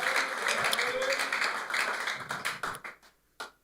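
Worship congregation clapping hands in praise at a Tuesday church service, a dense run of claps that thins into scattered separate claps toward the end, with voices mixed in.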